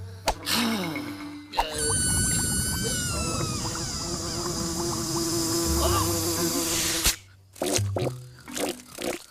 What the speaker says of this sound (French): Je vais plutôt pas lui dire pour la mouche.